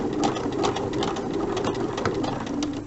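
A sewing machine runs steadily for a snowman applique block, switching to a straight stitch, with a continuous close buzzing hum and a faint rhythmic pulse throughout.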